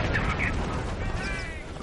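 Artillery explosions in a World War II strategy game thud over a dense, roaring battle backdrop, loud and continuous with rumbling low booms layered throughout.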